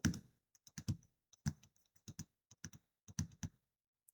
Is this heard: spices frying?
no